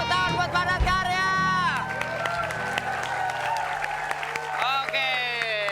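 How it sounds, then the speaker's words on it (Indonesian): Studio audience at an Indonesian comedy show applauds and cheers, the clapping filling the clip under strong musical tones and lively voices. "Tepuk tangan buat Padat Karya"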